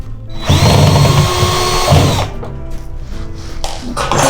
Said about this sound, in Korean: 그러면 이제 이 뒤쪽에 있는 나사를 풀어줄 거예요